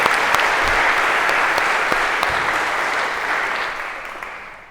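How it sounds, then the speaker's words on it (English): A lecture hall audience applauds loudly, a dense, even wash of clapping that slowly fades toward the end. "Big round of applause"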